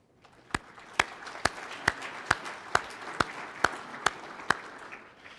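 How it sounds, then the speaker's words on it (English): Sparse, evenly spaced claps ring out at a slow, regular beat over a quiet room at a traffic safety panel event, sounding faint and somewhat distant. "So give yourselves all a round of applause for that."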